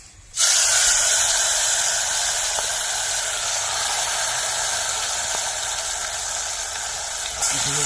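Marinated mutton dropped into hot oil for village-style handi mutton, bursting into a loud, steady, close sizzle and hiss that holds strong throughout, with no talking.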